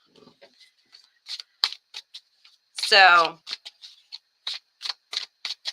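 A sloppy shuffle of playing cards, with a run of quick riffling clicks and flicks close by, broken briefly by a voice speaking.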